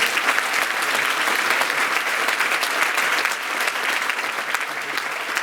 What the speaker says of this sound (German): Erstmal möchte ich einen dicken Applaus für Herrn Gretz haben